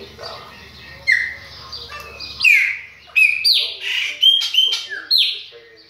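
A caged chopi blackbird gives a series of loud, sharp whistled calls and chirps, each a bright descending note repeated at uneven intervals close by, with a low hum underneath early on.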